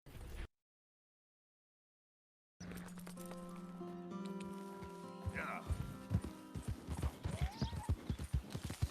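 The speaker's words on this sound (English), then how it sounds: "I haven't fallen off my horse once today" Horse hooves clip-clop in a video game. A brief burst of sound gives way to silence, then sustained game tones start and a run of quickening hoofbeats grows louder toward the end, with voices mixed in.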